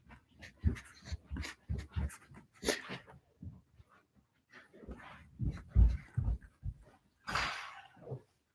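Two dogs pant in quick rhythmic bursts, close to the microphone, then whimper and breathe heavily in uneven snatches, with a louder whine near the end.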